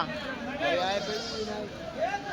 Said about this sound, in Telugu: మేకపోతులు ఉన్నాయండి